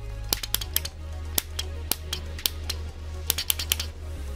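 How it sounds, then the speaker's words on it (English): Sharp, dry clicks from a telegraph key on a homemade spark gap radio transmitter, tapped in short and long bursts over a low steady hum. "I would type this on the telegram key."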